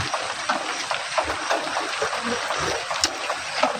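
Steady, continuous rain falls during a coffee harvest, a dense broadband hiss of drops on leaves and surfaces with no breaks, fairly close and even throughout; a few faint soft knocks sit underneath.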